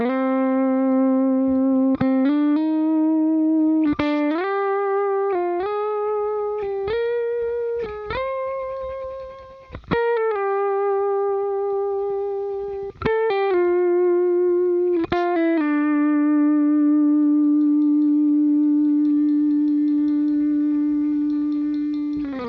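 An electric guitar runs through a compressor pedal, playing a series of single notes and slides that ring out with long, even, heavily compressed sustain, ending on one held tone that fades slowly.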